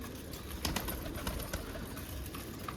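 Pigeons in a coop coo and rustle while feeding, a steady close bed of soft bird murmurs and scattered wing flutters with a few louder peaks.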